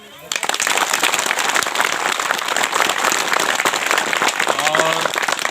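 A crowd at a prayer gathering breaks into loud applause after a short quiet start, the clapping dense and sustained, with a brief voice or tonal sound briefly rising through it near the end.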